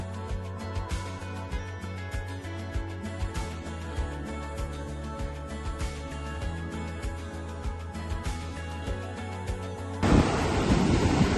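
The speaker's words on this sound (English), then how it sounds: "The waves are crashing, the tide is coming in." Waves crash on Anglesea beach as the tide comes in, a close, loud wash of surf rising into a strong roar near the end, with a steady low rumble and scattered thumps under it.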